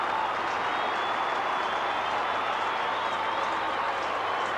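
A stadium crowd at Waverley applauds after a goal in a 1996 St Kilda v Essendon Australian football match. A dense, even wash of clapping and cheering continues throughout at moderate volume.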